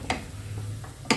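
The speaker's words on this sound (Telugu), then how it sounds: "కొత్తిమీర వేసి ఒక్కసారి ఇలా కలిపేసి" Coriander stirred into a banana flower curry in a pan: two quick spoon clacks against the pan over a steady low sizzle, close by.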